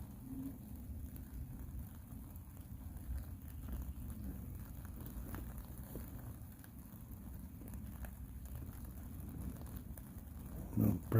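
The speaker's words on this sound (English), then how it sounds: "the rain started to come quite heavy now" Heavy rain falls at night in Bradford around 1:30 in the morning, a steady, soft hiss and patter throughout. It is fairly faint and distant, with a few louder knocks near the end.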